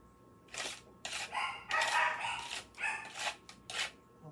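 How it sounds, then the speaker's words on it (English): Dogs barking outdoors in a string of sharp, separate barks with short gaps, fairly distant and moderately loud over a quiet background. "The dogs are always barking at something."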